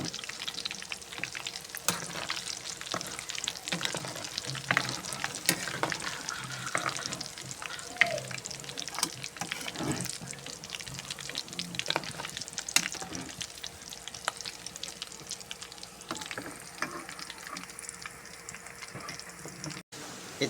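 Chicken fat fries in hot oil in a home kitchen, with continuous crackling and sharp pops spread evenly throughout, fairly close and loud.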